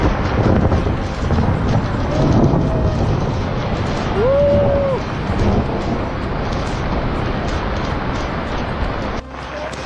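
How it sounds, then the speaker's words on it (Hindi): Heavy rain and hail pelt down on the trek to Kedarnath, a dense, loud, steady roar with wind buffeting the microphone throughout and a brief faint tonal sound partway through. "बहुत ही जोर से बारिश भी हो रही है और ओले भी गिर रहे हैं।"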